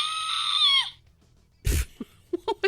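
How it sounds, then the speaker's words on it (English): Piercing, sustained high-pitched scream on a dark road at night in Oxford, Ohio, lasting under a second, followed by silence and then a few short bursts of talking. "It was a scream, I think."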